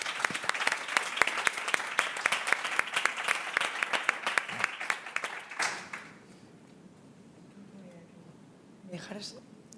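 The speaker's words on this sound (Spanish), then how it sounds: "despidamos a nuestros tres excelentes panelistas con un aplauso" An audience applauds panelists at the close of a panel on competition in the taxi sector, with dense, loud clapping for about six seconds that then stops abruptly, leaving quiet room noise and a brief stir near the end.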